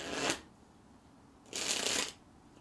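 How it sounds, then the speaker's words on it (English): A deck of playing cards is shuffled twice, two quick riffling bursts of crisp fluttering separated by a short pause, close and fairly quiet. "Can you hear me shuffling this deck?"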